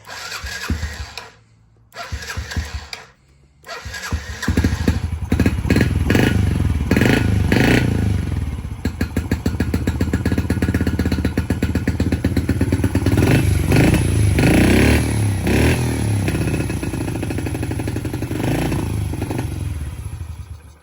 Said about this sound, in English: I'm gonna have to bump up the idle just a little bit so it actually stays running without me having to hold the throttle